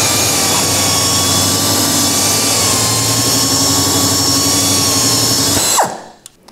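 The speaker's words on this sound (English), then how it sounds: "Now coming in with your non-woven to blend and polish your final step." Dynabrade pipe belt finisher running a non-woven belt to blend and polish pipe, a loud steady high-pitched whine with grinding hiss that holds evenly for several seconds, then spins down and cuts off near the end.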